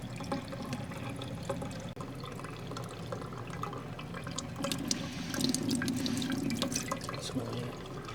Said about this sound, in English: I'm going to turn the water on, and I'm going to wait until I smell like that smell of bleach